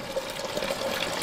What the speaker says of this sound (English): So we've got this valve underneath there that releases the water inside the tank.